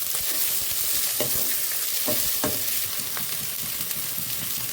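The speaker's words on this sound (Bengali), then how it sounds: "সেই টমেটোটা দিয়ে দেবো। এটাকেও কষিয়ে নেব।" Chopped medium tomato frying in a pan for Bengali murighonto, with a steady bright sizzle and a few scraping stirs of a spatula close by, no voices.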